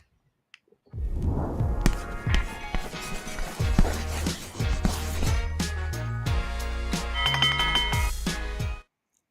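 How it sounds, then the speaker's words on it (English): A bell rings loudly for about eight seconds during a wrestling post-show, with bright, ringing, cowbell-like tones struck repeatedly over a layered, music-like backing, then stops abruptly. "I love when I hear that bell."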